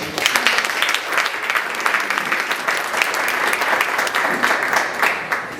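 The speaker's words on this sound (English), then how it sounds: "Please give a nice round of applause for George." An audience at an entrepreneurs' networking event in Wilmington claps for a speaker, a loud, close, steady round of applause with sharp individual claps that carries evenly from start to finish.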